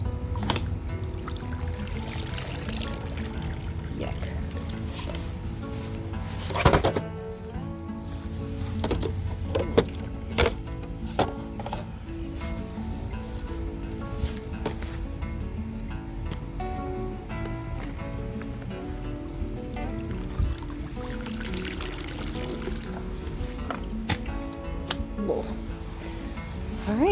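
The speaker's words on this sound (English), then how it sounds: "Alright, so now we just let it drain." Dirty, foul-smelling pool water drains out in a backyard pool cleanup, a low continuous trickle and pour that runs steadily with occasional clunks and handling noises, and no talk.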